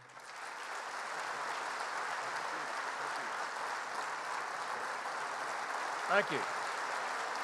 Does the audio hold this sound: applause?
yes